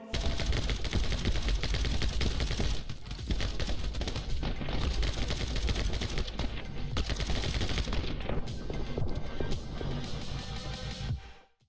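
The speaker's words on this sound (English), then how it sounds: "I'll leave you now with an intense gunfight scene from the game." An intense gunfight from a Devolver Digital video game, with dense rapid bursts of gunfire and machine-gun fire rattling almost continuously at close range, briefly easing a couple of times before stopping.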